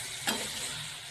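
Kadai paneer masala frying in a covered pan, a soft steady sizzle held close for about a second, with a faint click near the start and another at the end.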